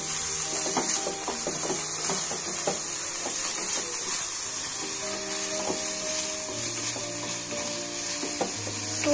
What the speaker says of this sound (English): Let it fry for 1 minute.